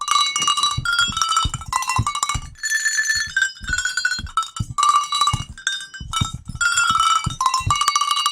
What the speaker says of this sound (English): why don't you put the notes of the bells just in order of what you have to play?